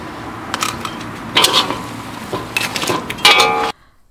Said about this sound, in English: put that all back into the wok, and you're gonna mix that together with the noodle